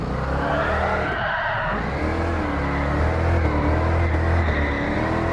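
A 1978 Pontiac Trans Am doing donuts in Gran Turismo Sport: a steady revving engine blends with long, broadband tire squeal and skidding, loud and sustained throughout, with a brief dip early on.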